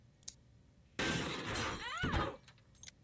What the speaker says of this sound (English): check out this internet video of some idiot crashing her spaceship